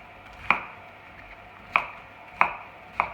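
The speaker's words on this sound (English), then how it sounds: "next we just want to chop our cauliflower up" A knife chops through cauliflower on a cutting board, four crisp separate knocks with uneven gaps between them, close and clear against a quiet background.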